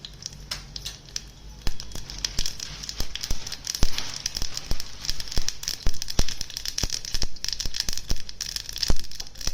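Mustard seeds crackle and pop in hot oil with cumin in a pan, a dense run of sharp close pops growing busier after the first couple of seconds, with no talk over it.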